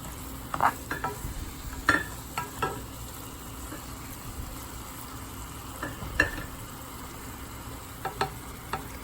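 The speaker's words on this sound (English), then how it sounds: "we are gonna start moving the meat around because you want the meat to evenly coat" Ground beef sizzles in a pot over high heat while a utensil stirs it through the pan, sending sharp scraping strokes at irregular intervals over a steady, close frying hiss.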